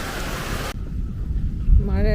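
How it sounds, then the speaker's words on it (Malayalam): Heavy monsoon rain and gusting wind sweep over a rural Kerala home and farm, a dense steady roar that briefly cuts to quieter wind-blown patter, with a low rumble near the end as voices speak. "ഒരു രക്ഷയില്ലാത്ത മഴയാണ്, കാറ്റുമുണ്ട്."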